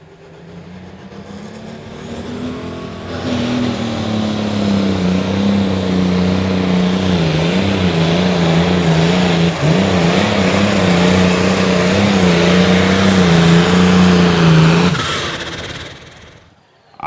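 Limited Pro Stock pulling truck at an outlaw truck pull, its engine roaring loud and close for about twelve seconds with a steady throttle and slight wavering pitch, then cutting back and fading as the throttle is pulled off.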